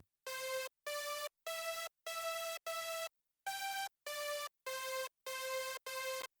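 A synth top-line layer from a chord stack, playing a string of evenly spaced, bright, buzzy sustained chord stabs with small pauses between them, quiet and alone.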